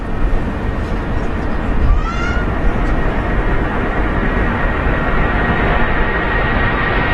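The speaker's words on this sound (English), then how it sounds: "747 coming at you now." A Boeing 747 at London Heathrow approaches with a loud, steady engine roar that fills the scene, a faint whine rising over the rumble.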